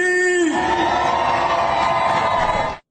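A large crowd in Times Square cheers, whoops and yells in a loud, dense roar that swells after a brief opening tone and holds steady until it cuts off abruptly.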